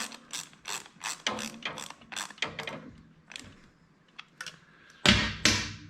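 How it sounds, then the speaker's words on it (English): A ratchet tightens the bolt on the back of a Yamaha PW50 air box in a series of close, sharp clicking bursts of varying length, with short pauses between strokes and a louder final pair. "Tighten the bolt back down on the back of your air box."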